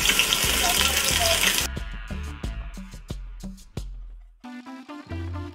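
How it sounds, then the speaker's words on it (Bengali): Chopped onions hit hot oil in a rice cooker for a crab bhuna, giving a loud, dense sizzle for the first second and a half before it gives way to scattered clinks and brief tonal sounds. "তেল গরম হওয়ার পর পরিমাণ মতো পেঁয়াজ কুচি দিয়ে দিচ্ছি।"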